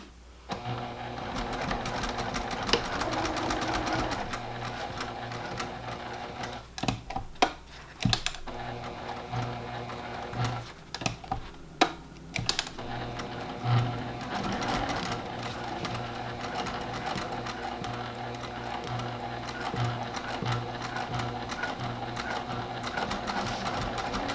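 A sewing machine stitches across the interior lining of a travel bag, running in long steady bursts of rapid needle clatter with brief pauses between runs; no one speaks.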